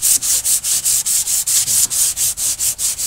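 Steady back-and-forth scraping of sandpaper on varnished wood, about a dozen even strokes in a regular rhythm, close and clear with no talking.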